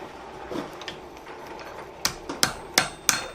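A blacksmith hammers a forged metal flower coat hook on a block, light taps leading into four or five sharp, ringing blows at an uneven pace.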